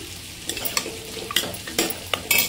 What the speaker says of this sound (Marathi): मी मॅरिनेट करून ठेवलेलं जे मटण ते आता फोडणीत टाकलं आहे